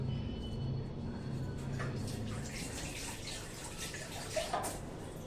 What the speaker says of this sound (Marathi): जेवढं काही भांड्याला असेल तेवढं सगळं पाणी घालून स्वच्छ काढून घ्यायचं